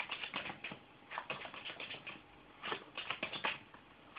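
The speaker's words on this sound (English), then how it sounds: "we can even give these a shuffle" A small stack of eight playing cards is shuffled by hand, giving a soft, quiet run of riffling and patting taps with brief pauses, close up and without talk.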